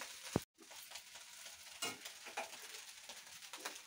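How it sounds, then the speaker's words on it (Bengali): Fried rice frying and being stirred in a home kitchen pan: a soft sizzle under scattered scraping stirs, with a sharp knock near the start and a brief dropout, fairly quiet throughout. "রাতে ফ্রাইড রাইস হচ্ছে"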